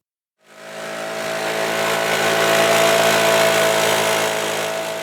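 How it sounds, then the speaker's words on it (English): A gas leaf blower starts up and roars steadily while clearing a trail path on a wooded hillside south of downtown Ludlow, a loud, close, sustained engine whine with a droning tone and no voices. "Tim Calabrese is using a leaf blower to clear a path along a wooded hillside just south of downtown Ludlow."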